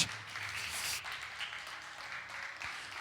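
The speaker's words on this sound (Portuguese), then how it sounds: "Aplaude ao Senhor bem forte nessa noite." A church congregation applauding during an evening worship service, a steady wash of many hands clapping, moderately loud and continuous for a few seconds.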